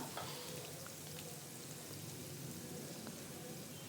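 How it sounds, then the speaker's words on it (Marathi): Green chili paste sizzles in hot oil, a steady dense crackle and hiss that holds evenly and close for a few seconds, with no voices. "मिक्सरमधून काढून घेतलेल्या हिरवी मिरचीचे वाटण आपल्याला कड तेलामध्ये टाकून घ्यायचं आहे"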